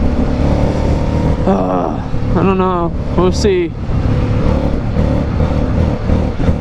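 A Harley-Davidson Street 500 motorcycle runs on a highway with a steady engine drone and wind rush throughout, while a rider talks briefly over it.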